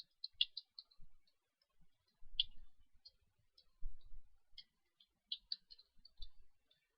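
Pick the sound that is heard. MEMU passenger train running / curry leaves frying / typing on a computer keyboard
typing on a computer keyboard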